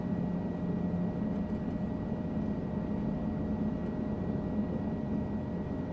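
A two-seat piston helicopter in a flight simulator game gives a steady, even engine and rotor drone, with a faint constant tone and no other sounds.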